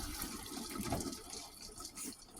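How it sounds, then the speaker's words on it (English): Seaweed soup bubbling in a pot: a soft, continuous watery gurgle and simmer, faint and close, with no speech. "And what you hear is the seaweed soup."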